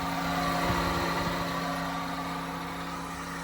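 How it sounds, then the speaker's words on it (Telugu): A Honda Civic with a sunroof idles smoothly, its engine giving a steady, even hum with no fluctuation, close and unbroken for a few seconds. "ఇంజన్ సౌండ్ చూసుకున్నట్టయితే షోరూమ్ సౌండ్ అండి అసలు ఎటువంటి సౌండ్ లేదు చాలా స్మూత్గా ఉంది"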